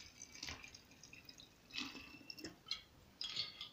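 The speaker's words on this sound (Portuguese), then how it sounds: "Coloca a pinga para completar." Cachaça is poured into a glass jar in a few short, separate splashing bursts with gaps between them, faint and close, with no voices.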